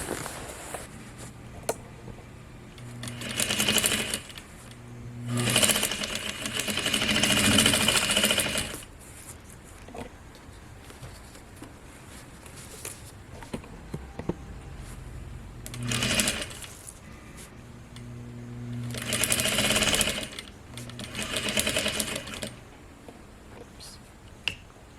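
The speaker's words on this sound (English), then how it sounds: "I'm going to stitch right here, just through the seam allowance." A sewing machine stitches through the seam allowance while a pair of pants is taken in at the waist, running in several bursts of steady, close whirring separated by quieter pauses.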